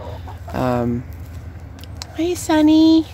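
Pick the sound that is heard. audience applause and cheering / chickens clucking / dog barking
chickens clucking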